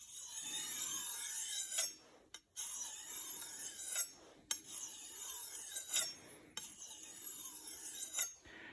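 A cheap knife edge is sharpened in repeated rasping strokes, about five rhythmic scrapes separated by brief pauses, close and clear.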